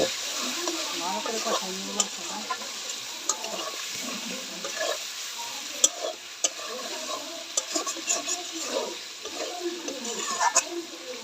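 Chicken meat stir-fried in a hot pan, a close, continuous sizzle with scraping stirs and occasional sharper spatters, with a voice talking intermittently over the frying.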